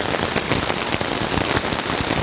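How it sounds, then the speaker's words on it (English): Heavy rain pours onto a camping tent and tarp during a severe thunderstorm, a loud, dense and constant patter of drops drumming close by, with no voices. "I don't care if it's raining"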